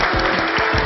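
A studio audience applauds as a cooking-show duel starts, a dense steady clatter of clapping filling the whole short moment.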